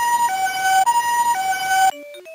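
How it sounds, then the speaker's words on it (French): A loud, close electronic ambulance siren on a 2005 VTech Ma Ville Alphabet toy cycles through a repeated two-tone hi-lo wail, then breaks off into a short synthesized jingle. "Ambulance."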